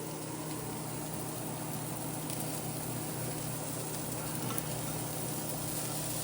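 Cooked rice is stirred in a Ninja Sizzle pan for chicken fried rice, giving a steady, fairly faint frying hiss with soft stirring throughout.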